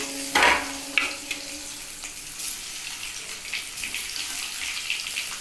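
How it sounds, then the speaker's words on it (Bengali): Beaten eggs frying in a pan for a lightly spiced home vegetable-and-egg curry, giving a steady close sizzle with a few sharp clinks and scrapes near the start. "এবার ডিমটাকে আমি ভেজে নিই"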